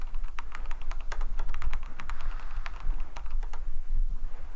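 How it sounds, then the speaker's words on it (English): Rapid computer keyboard typing at close range, with irregular bursts of sharp key clicks running steadily throughout over a low background hum, no voices. "Suddenly, I miss that keyboard typing."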